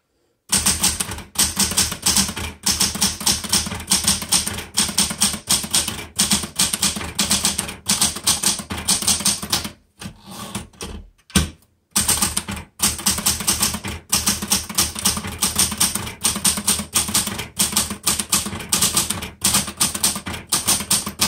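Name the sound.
typing on a Smith Corona Galaxie Twelve vintage typewriter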